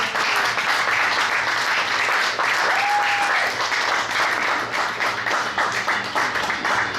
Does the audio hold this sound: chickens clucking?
no